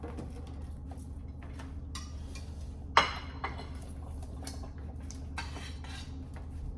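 Dishes and cutlery clinking while rigatoni with homemade tomato sauce is plated, with one sharp clatter partway through over a steady low kitchen hum.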